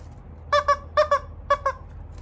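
A squeaky cartoon chicken toy doll is squeezed in three quick pairs of sharp, close squeaks separated by short pauses.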